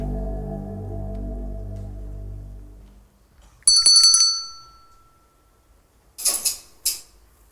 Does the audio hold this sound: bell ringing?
yes